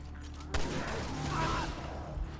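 A single loud gunshot rings out, then reverberates with a rumbling tail, as a player fires at an Iron Head enemy in Resident Evil Revelations 2 on PS4, with game ambience around it.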